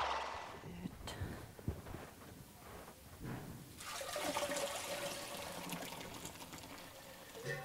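Milk poured into a vessel while making kumys, a steady liquid splashing and gurgling that swells after a few seconds and continues, fairly faint and close, with no talk.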